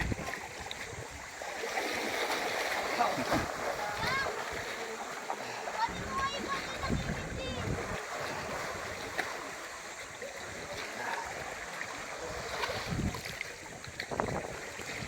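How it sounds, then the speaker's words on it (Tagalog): Gusty wind roars and buffets the microphone throughout in Coron, Palawan, with water splashing nearby and a voice speaking briefly under the noise. "Lumalakas na yung hangin."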